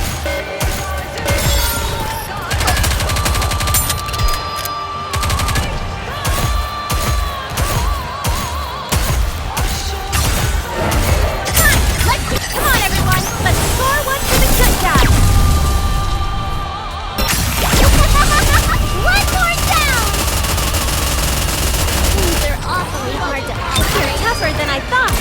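Rapid gunfire and explosive booms from the video game Nikke, sustained and loud through the whole stretch, with game voices and music mixed under the dense shooting.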